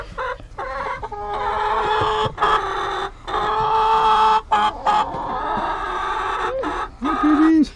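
Chickens cluck and squawk close by in a chicken house in a busy, uneven chorus, with short pauses between bursts and no one speaking.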